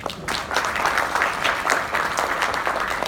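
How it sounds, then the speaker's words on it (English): Audience applause after a lecture on repairing complex retinal detachments: dense, steady clapping from many hands filling the room at an even level throughout, with no speech over it. "I think all our faculty deserve a big round of applause."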